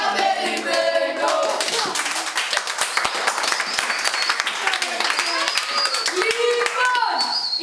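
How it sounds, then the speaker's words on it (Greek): An audience at a school performance by the 3rd Primary School of Amfissa claps loudly and continuously, with dense applause throughout and voices calling out over it. "Πανηγυρίσαμε, χειροκροτήσαμε"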